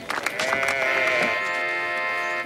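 Sheep bleating at a village contest where young women show their prettiest sheep: one sustained, wavering, nasal bleat lasting about two seconds, close and fairly loud over a soft background.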